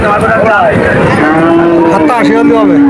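A cow at a busy cattle market gives a loud, close, drawn-out moo that rises and falls, with a second bellow near the end and no talk over it.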